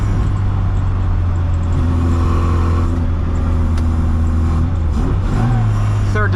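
A 1965 Austin Mini Cooper S heard from inside while driving, the engine droning loud and steady, then the revs shifting through a downshift near the end, with no talk.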